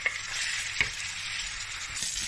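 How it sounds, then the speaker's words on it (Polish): Steady, close sizzling of beef frying in a hot pan over high heat, a dense hiss with a couple of faint sharp pops. "Tu mam patelnię już podgrzaną. Słychać tak ładnie świerczy."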